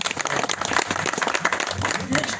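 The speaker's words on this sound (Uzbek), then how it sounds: "Bitta qarsak chop qo'yinglar" A round of applause from an audience at a family gathering, dense, steady clapping throughout, loud and close, with voices mixed in under it.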